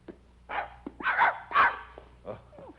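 A dog named Lazarus gives a short series of soft, close yips and small barks, four or five bursts in quick succession, moderately quiet.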